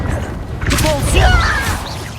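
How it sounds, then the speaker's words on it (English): A Depulso force spell from the Hogwarts Legacy video game bursts out as a single sharp swooshing blast, followed by a brief crackling magical tail over rumbling battle ambience. "Depulso!"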